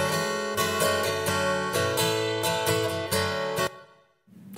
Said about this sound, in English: this is very short and a bit brighter and there's no pre-delay at all